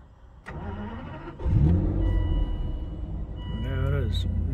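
An Aston Martin DB9 is started with the key: a short electronic chime, then the starter cranks and the engine catches with a loud burst, settling into a steady, close idle, with a voice speaking over it.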